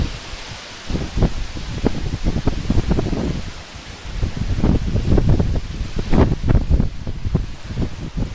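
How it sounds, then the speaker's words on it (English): Strong blizzard wind roars and buffets the microphone in rough, uneven gusts up to 90 miles an hour, a loud whooshing rush with no voices. "We're getting wind gusts up to 90 miles an hour"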